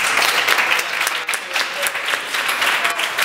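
An audience at a Billy Elliot musical event applauds, with dense, loud, steady clapping that fills the whole stretch and briefly dips midway.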